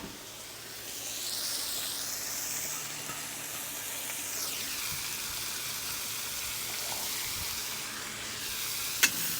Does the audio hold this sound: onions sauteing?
yes